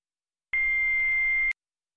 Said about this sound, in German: Eine Nachricht auf dem Anrufbeantworter.